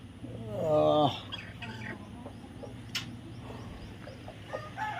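Hens on a farm, one giving a loud close cluck near the start, then quieter scattered clucks and faint chick peeps amid outdoor background.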